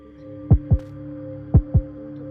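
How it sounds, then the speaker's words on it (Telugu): A heartbeat sound in the Scary Teacher video game gives two double thumps, each a lub-dub pair of deep, punchy beats about a second apart, over a steady low electronic hum. "heart beat"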